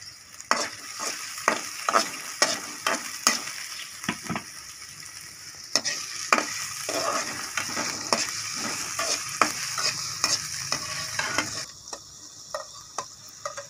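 Finely chopped onion frying in ghee, with a steady sizzling hiss broken by regular scraping stirs of a spoon in the pan, close and moderately loud, no voices.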